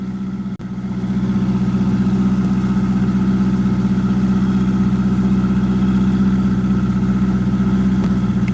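A Ferrari 488 GTB turbocharged engine idles steadily and loudly up close, a low, even rumble that holds without change after a brief dip at the start.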